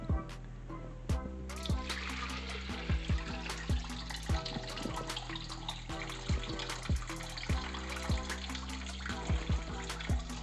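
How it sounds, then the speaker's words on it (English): Water from a pitcher dumped into a homebrew recirculation setup, a steady pouring and splashing wash running throughout with scattered sharp knocks and clicks over it. "take my pitcher here, I'm going to dump some water in"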